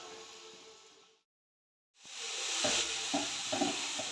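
Chopped taro stems go into a pan of half-fried onions. Quiet frying gives way to a short silence, then a louder burst of sizzling with a few stirring clinks and scrapes.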